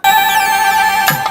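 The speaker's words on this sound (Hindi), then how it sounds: "अरे फोन, अरे मेरी बेटी का फोन है।" A mobile phone ringtone plays loudly and close, a bright electronic melody of sustained tones that sweep downward, heard alone for about a second before a brief noise cuts in.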